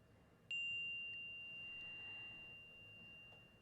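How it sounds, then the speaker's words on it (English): A chime struck once to close a group session rings out clearly, its pure tone sustaining and slowly fading over a quiet room with no talking. "So we're going to chime out."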